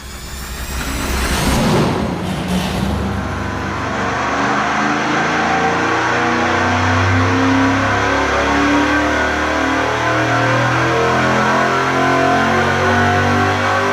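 A stock Chevrolet 305 V8 on an engine dyno, running on nitrous with SAE 60 weight oil, revs up sharply, then holds a loud, steady, rough roar under load for several seconds.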